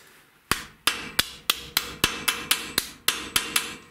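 A mallet or hammer bends sheet metal into a homemade dustpan, striking about a dozen times in a steady, evenly spaced rhythm of sharp, ringing metallic knocks, close and loud, with no talking.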